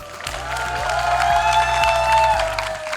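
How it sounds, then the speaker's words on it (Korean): Applause and cheering from union members gathered at a labor rally, dense clapping mixed with shouts while a sustained musical tone and rhythmic low thumps play alongside. "자랑스러운 우리 동지들 위해서 동지들 뜨거운 박수 한번"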